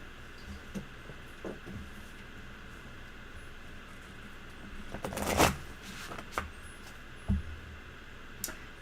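Oracle cards being shuffled for a tarot reading, soft quiet riffles and taps over a low room hiss, with one louder burst of shuffling in the middle and a few isolated clicks.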